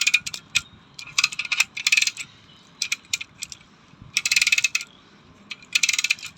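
A ratchet wrench cranks a car tire jack upward in quick bursts of crisp mechanical clicking, with short pauses between strokes, close and clear with no talking.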